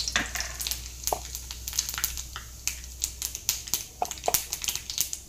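Mustard seeds and cumin hit hot oil, giving a quiet irregular series of sharp pops and crackles close by over a low background hum, with no voices.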